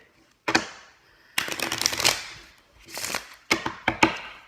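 Close, crisp riffles and snaps of cards being shuffled in several bursts, with short pauses between them.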